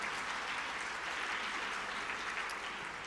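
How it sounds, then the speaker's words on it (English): A conference audience gives a dense, steady round of applause for a student ROTC color guard, heard at moderate distance, continuous and even, with no speech over it. "another round of applause for the ROTC, La Escolta de Ciudad Juárez"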